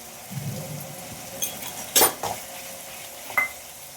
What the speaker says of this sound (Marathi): मसाल्याला तेल सुटेपर्यंत छान असं परतून घ्यायचं